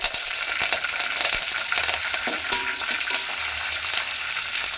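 Curry leaves hit hot oil for shavige uppittu, crackling and spitting in quick sharp pops over a steady close sizzle, with no voices.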